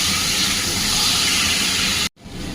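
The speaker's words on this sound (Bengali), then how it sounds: "এবার লোটে মাছটা এর মধ্যে দিয়ে দেবো" Bombay duck fish dropped into spice paste frying in a pan gives a loud, steady, hissing sizzle that cuts off abruptly near the end, then resumes more quietly.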